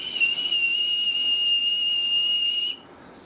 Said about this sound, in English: You can also whistle into it like this.